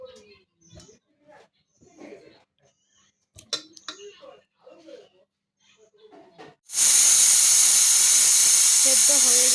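Loud, steady steam hiss bursts in and holds from a pot of jackfruit seeds and potatoes boiling, following several seconds of quiet talking and soft kitchen clatter.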